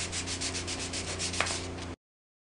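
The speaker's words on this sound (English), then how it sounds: "Now when you're sanding the back of the controller, you only have to sand this part that has texture." Steady sanding on the textured back panel of an Xbox controller, a continuous close scratchy rub with rhythmic strokes, heard alone for about two seconds before stopping.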